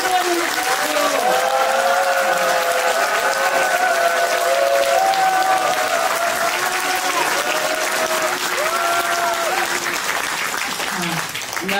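Sustained applause from an audience welcoming a guest at a book concert, steady and full for about twelve seconds and heard from within the crowd, with a faint voice over the clapping.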